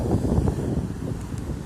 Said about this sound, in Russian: Единственное, что сегодня больше ветра, чем первого было и второго.